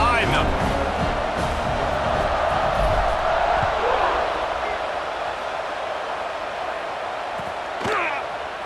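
A college football stadium crowd at South Carolina at UCLA roars as a continuous wash of cheering around a kickoff, with a commentator talking over it and a brief swell near the end.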